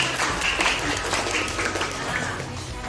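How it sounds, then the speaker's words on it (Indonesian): A classroom group claps together, a dense, steady patter of many hands that holds for a few seconds and fades slightly toward the end. "Iya, tepuk tangan."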